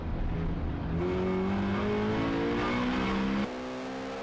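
Seat and Mini touring cars racing at Rockingham, engines revving hard as they accelerate with rising gear-change harmonics, a loud close pass ending in a sudden drop in pitch.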